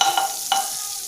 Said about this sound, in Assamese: কেৰাহীখনত বাটাৰ দি লৈছোঁ